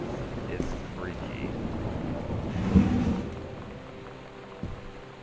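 Thunder rumbles in a steady rain and wind ambience within the video game Gone Home, one louder roll swelling midway and a smaller crack near the end.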